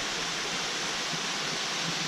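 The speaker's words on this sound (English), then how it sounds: "No, that's not the falls, that's the Cascades" Water cascades in the Blue Mountains rush in a steady, dense, continuous roar with no other sounds.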